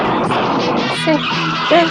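The Mach 5 race car revs and skids, with loud tire squeal and engine whine rising and falling over two seconds, mixed with music and singing.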